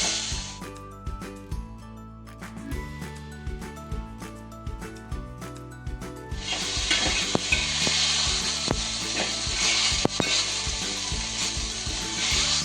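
Spice masala being dry-roasted in a pan with coriander leaves for a goat intestine (vajadi) curry, giving a soft sizzle with repeated light scraping and stirring knocks that thickens into a louder, steady crackling hiss partway through.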